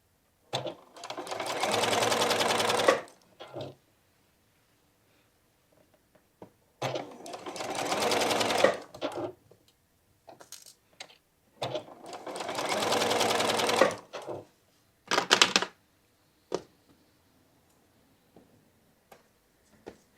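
A sewing machine stitching a quilt block seam runs in four close, loud bursts of rapid stitching separated by quiet pauses with small clicks and handling sounds.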